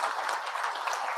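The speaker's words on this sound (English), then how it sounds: "Big round of applause for you guys." An audience at a smart manufacturing summit claps for a panel, a steady patter of many hands at moderate distance, fairly soft and even throughout, with no one talking.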